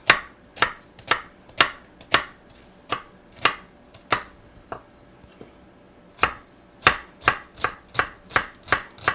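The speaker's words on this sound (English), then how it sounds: "What we're going to need 1 cup of small diced onion." Rhythmic knife chops on a cutting board as an onion is finely diced, steady crisp strikes in quick succession with a brief pause midway, close and clear with no talking.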